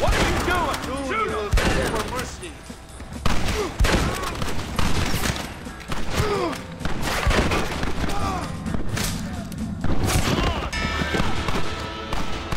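Shootout in Red Dead Redemption with rapid bursts of rifle and pistol fire, loud and near, punctuated by shouted voices and ricochets, continuing over several seconds.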